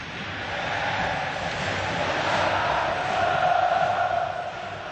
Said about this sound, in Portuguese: A torcida tricolor não para.